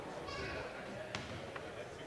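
A basketball bounced on a gym floor before a free throw at a high school game, two short thuds under a commentator's talk and crowd murmur.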